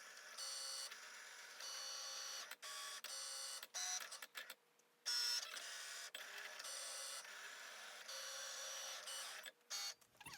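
Cricut cutting machine cutting fabric pieces for a face mask; a quiet, close carriage whirr in repeated bursts of motor movement broken by short pauses and clicks, with no talk.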